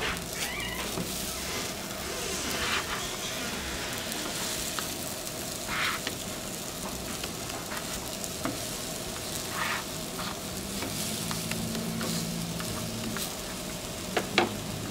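Rice tortillas fry in a pan with a steady, even sizzle that runs unbroken, joined by a few light clinks near the end.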